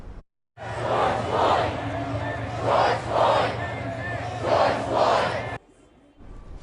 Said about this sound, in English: You can hear the protesters as they are chanting George Floyd's name.